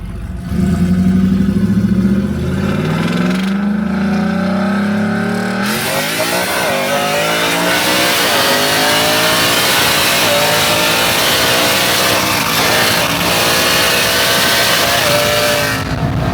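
A Whipple-supercharged Ford F150 pulls hard through the gears, a loud close engine roar whose pitch climbs, drops at each shift and climbs again, with no talk.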